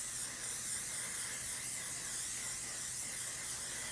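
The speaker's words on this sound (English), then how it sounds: "I'm just gonna go spray." An aerosol can of hairspray or spray adhesive releases a continuous, faint hiss that stays steady throughout, with no voices over it.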